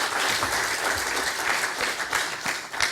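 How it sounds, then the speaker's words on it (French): An audience applauds a speaker at an agricultural talk, with dense, continuous clapping from many hands at a moderate level and a few closer claps popping out toward the end. "on peut l'applaudir avant de passer à quelques questions"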